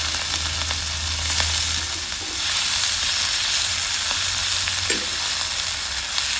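Methi (fenugreek) leaves frying in a pan for chutney, a steady close hiss and crackle of oil that holds through the whole stretch, with faint soft clinks of a spoon now and then.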